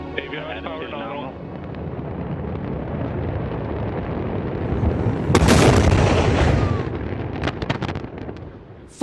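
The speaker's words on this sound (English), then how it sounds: "becomes a ferocious fireball just seconds after liftoff from NASA's Wallops Island facility on Virginia's eastern shore" A rocket about 14 stories tall explodes into a fireball seconds after liftoff from NASA's Wallops Island facility on Virginia's eastern shore, a loud deep rumbling blast surging midway under a voice and continuing roar.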